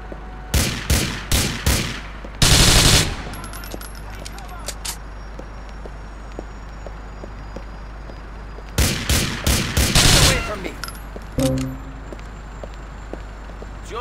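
Bursts of gunfire from Grand Theft Auto IV, several rapid volleys early, a dense burst near three seconds and more clustered shots later, loud and close over a steady low game hum, with someone speaking between shots.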